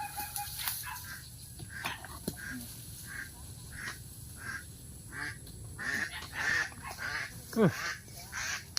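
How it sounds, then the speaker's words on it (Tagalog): Ducks quack repeatedly outdoors at a rural spot, a series of nasal calls at a moderate distance with several bursts in quick succession, while people talk now and then. "May itik."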